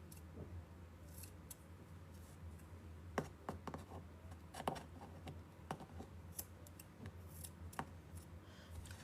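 Scissors snip irregularly and quietly through craft material, trimming pieces for a painted door hanger, with several short cuts and faint handling noises in between.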